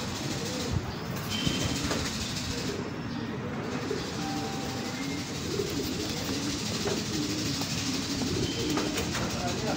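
Racing pigeons coo and flutter as they arrive in a steady stream, amid a steady rumbling background with occasional faint voices; soft wingbeats and calls come in a loose, continuous stream.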